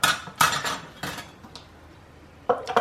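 Plastic parts of a food processor, the bowl plus grating and slicing discs, clack and click together in short bursts, a few quick knocks near the start, a pause, then two more clinks at the end, with no talking.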